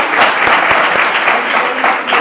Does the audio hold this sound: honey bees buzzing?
no